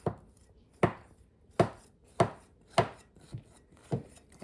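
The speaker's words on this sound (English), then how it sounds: "we take our knife and we just cut it in squares" Knife chopping down through a lemon pudding cake into squares, six or seven distinct cuts landing at a steady rhythm against the board, close and clear with no talking.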